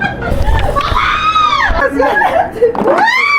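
Loud, close screams and shrieks from several people in a haunted house at a Japanese amusement park, mixed with nervous laughter and shouted voices.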